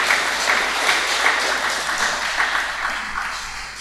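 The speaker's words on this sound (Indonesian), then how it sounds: "Bolehkah tepuk tangan Bapak Ibu?" Congregation applause during a church worship service, a steady wash of clapping from many hands that holds at an even level throughout, fairly close and filling the room, with no voices on top.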